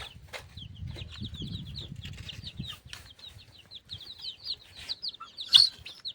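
Chickens and chicks on a village farm keep up a string of high peeping calls from the chicks, with low clucking and wing flapping early on and a sharper squawk near the end.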